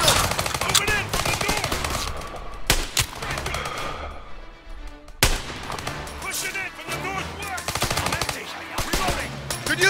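Gunfire in the video game Call of Duty: WWII, with heavy, sustained machine-gun and rifle fire rattling in loud bursts and a brief lull midway, plus shouting soldiers in the fight.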